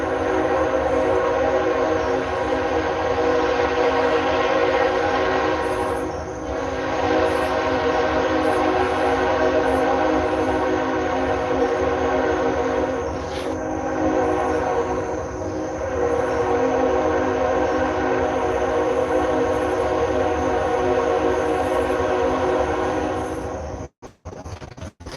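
A train rolls past on nearby railroad tracks, a loud, steady rumble holding for about twenty-four seconds with faint horn-like tones, then cutting off abruptly near the end.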